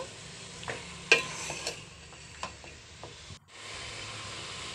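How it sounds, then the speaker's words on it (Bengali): Onion stalks and mixed vegetables, cooked alongside bottle gourd for a rural-style catla fish curry, are stir-fried in a pan. A steady sizzle runs under scattered scraping clicks from the stirring, then breaks off briefly before the frying hiss returns. "পেঁয়াজ কালিটা দিয়ে আবারও একটু এটা কষিয়ে নেব"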